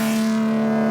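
Resampled bass layer pitched up a full octave, a rough, gritty synth tone with steady sustained harmonics, played alone for under a second.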